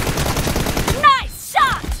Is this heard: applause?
no